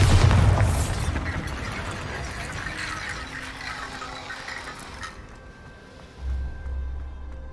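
In the game Hogwarts Legacy, a Bombarda spell goes off as a loud, close explosion with a deep boom, then a long crumbling, rattling debris tail that fades, followed by a low thud.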